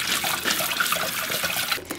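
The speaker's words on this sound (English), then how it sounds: "Rinse in cold water." Cooked chestnuts rinsed under cold running tap water in a sink, a steady close splashing and trickling stream that runs without a break, with no talking.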